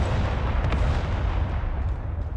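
Artillery fire in the battlefield video game Broken Arrow makes a continuous heavy rumbling roar, loud and dense throughout with faint thuds layered in.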